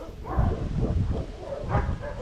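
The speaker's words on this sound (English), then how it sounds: "A lot of dogs." Several dogs bark and yip along a side road in Mespo, St. Vincent, a run of repeated barks at moderate distance with a voice briefly audible.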